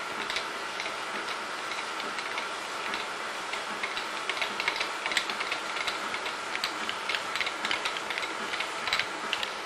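A surface grinder traverses across a sine plate part during dry rough grinding before the coolant is on, making a continuous mechanical whir with dense, even ticking and clicking throughout.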